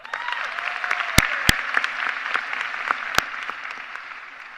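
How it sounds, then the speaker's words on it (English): High school graduation audience clapping for themselves, a broad, sustained applause with a few sharp, loud individual claps or knocks standing out near the microphone. "Give yourself a round of applause"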